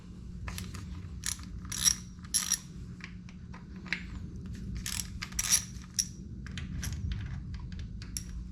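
A ratchet loosens the clutch cover bolts on a Harley Sportster, giving rapid bursts of fine metallic clicking in short irregular runs over a low steady hum, close and fairly quiet with no talk.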